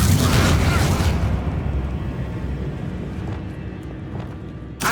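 A Bombarda blasting spell explodes in Hogwarts Legacy, a loud booming burst with a heavy low rumble that decays over a few seconds, followed by a faint rustle and a sharp hit at the very end.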